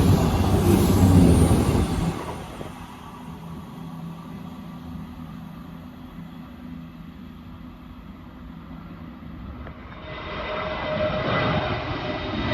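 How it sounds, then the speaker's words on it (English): A CrossCountry passenger service diverted from Manchester Piccadilly to Bournemouth passes along the Manchester Airport line, heard as a loud opening rush that settles into a steady low rumble and rises again near the end. "here's a passing cross-country service on Divert from Manchester Piccadilly to Bournemouth"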